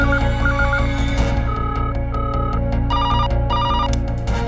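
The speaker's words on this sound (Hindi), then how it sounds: "लोगों ने मंत्री और पुलिस कमिश्नर के ऑफिस के फोन की घंटी को एक पल के लिए भी शांत नहीं रहने दिया।" An office telephone bell rings loudly and continuously, its bright electronic trill repeating in quick bursts without any talk over it.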